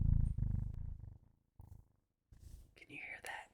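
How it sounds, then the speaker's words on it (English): A domestic cat purring close by, a low rumbling purr that comes in steady bursts between pauses, alongside quiet whispered talk. "When she's purring, I don't know if the mic picks up the purr."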